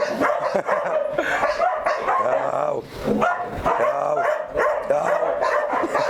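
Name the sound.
Chinese Malinois dog barking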